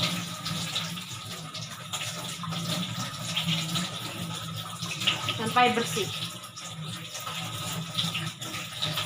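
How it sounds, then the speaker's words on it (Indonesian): A tap runs while hands are rinsed during nursing hand-washing before child colostomy care: a soft, steady splashing hiss continues beneath a person speaking. "Kemudian buka keran menggunakan siku."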